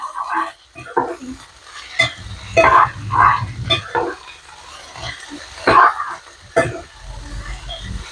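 Capsicum pieces sauté with onions in a pan for a curd curry, with intermittent sizzling and spatula scrapes and stirring, bursts of clatter between quieter frying.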